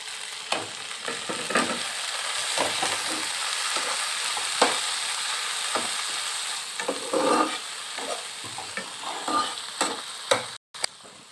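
Chopped tomato frying in a pan sizzles continuously, with repeated scraping and stirring knocks of a utensil against the pan scattered throughout; no speech is heard.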